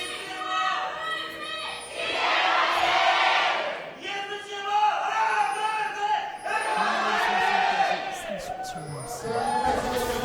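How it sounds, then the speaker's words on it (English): A live esports crowd at a League of Legends LCK Summer match cheers and shouts in two loud, sustained swells separated by a brief dip, filling the hall. "Much better cheer there from the Ever side."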